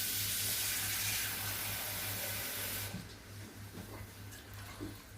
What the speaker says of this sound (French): je couvre la marmite avec de l'eau